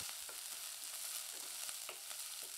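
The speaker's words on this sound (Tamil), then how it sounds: "இப்போ வெங்காயம் நல்லா வதங்கி வந்துருச்சுங்க." Steady close sizzling of onions sautéing in a hot pan, with a few light scraping stirs breaking through.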